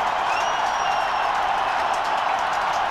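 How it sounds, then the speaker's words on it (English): A big cricket crowd at an India vs Sri Lanka one-day match in Ahmedabad rises for Rahul Dravid's century, producing sustained applause and cheering. The noise stays broad and loud for the whole stretch, with some faint whistles. "Everyone's standing, giving Dravid a real ovation."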